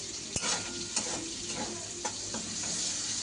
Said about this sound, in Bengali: এবার আমি মশলা কষাবো